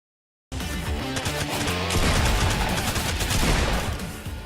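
Dense, sustained gunfire from Fortnite Battle Royale, with overlapping rapid shots and bursts that start abruptly and stay loud and steady.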